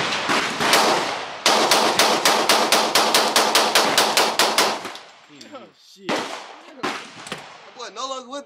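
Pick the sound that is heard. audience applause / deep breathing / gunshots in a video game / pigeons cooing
gunshots in a video game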